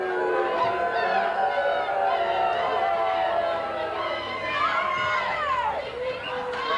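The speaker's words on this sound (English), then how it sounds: "Definitely a partisan Norristown crowd." A partisan Norristown crowd at a 1984 high school soccer bowl game cheers and chatters loudly and continuously, with shrill voices rising and falling across the stands.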